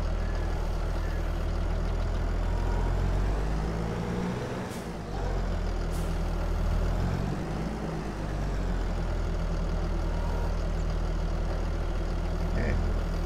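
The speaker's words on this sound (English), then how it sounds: "We'll be putting it on the John Deere, because it has it's a stronger tractor" A John Deere tractor engine idling in a farming video game, a steady low heavy rumble that runs throughout, with a brief hiss partway through.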